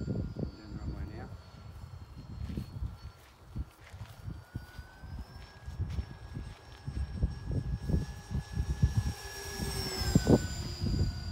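A model Beechcraft airplane rolls down the runway for takeoff, its motor whine climbing steadily in pitch and growing louder, with faint voices and footsteps nearby.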